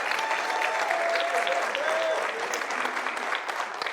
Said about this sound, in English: but y'all don't need to clap for it